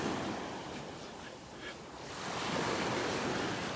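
Ocean waves wash steadily onto a North Naples, Florida beach, a continuous rushing surf with gentle swells and some wind noise, no voices.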